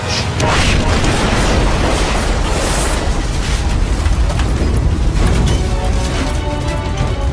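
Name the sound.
shells exploding against a ship's bridge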